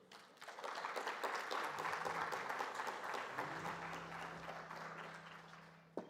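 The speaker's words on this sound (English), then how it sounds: "let's give a big round of applause to Ma'am Kasturi Soni." A crowd applauds warmly for several seconds, steady clapping filling a hall before tapering slightly at the end.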